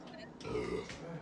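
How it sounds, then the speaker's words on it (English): A single low, gurgling burp lasting under a second, faint and slightly distant, with soft background murmur around it. "Someone just burped in the background."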